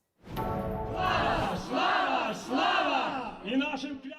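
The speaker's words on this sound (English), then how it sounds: "Across from Downing Street, hundreds of Ukrainians gathered on Sunday, a weekly rally drawing a much larger crowd" Ukrainians rallying across from Downing Street in London, a crowd shouting in unison in loud rhythmic chants that rise and fall in several bursts.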